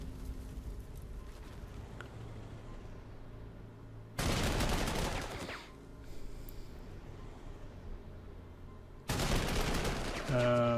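Artillery fire booms in the Panzer Corps 2 war strategy game, two loud, sustained blasts a few seconds apart over a low rumbling battle background.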